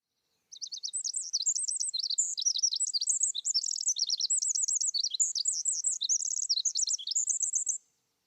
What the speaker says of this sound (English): Though small, Pacific wrens are loud.